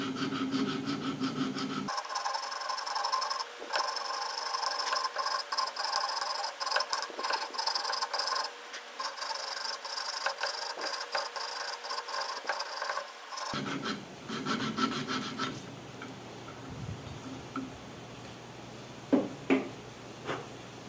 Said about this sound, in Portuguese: Agora eu vou começar a girar a madeira e o arco de serra juntos.